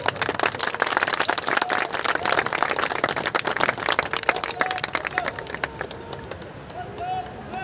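Crowd applause welcomes medal winners at a Border Security Force passing out parade at RTC Bhondsi, brisk outdoor clapping that is strongest early and gradually thins and fades, with some voices mixed in.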